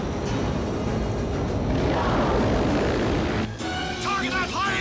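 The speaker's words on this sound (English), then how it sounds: "Target that plane and stop him!" A propeller plane revs and takes off, its steady engine drone loud and continuous in an action film, ending with a few short shouted voices over the roar.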